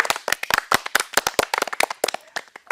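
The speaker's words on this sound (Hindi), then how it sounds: "आपण माने जोरे करताली मारंतु" Loud, sharp hand claps from an audience at a community awareness gathering for the Jal Jeevan Mission, a dense, uneven burst of many hands clapping close by, with no talking.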